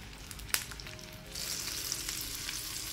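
Soldier bream frying in a hot pan, a steady broadband sizzle that swells louder after a brief sharp crackle early on, continuous and close with no talking.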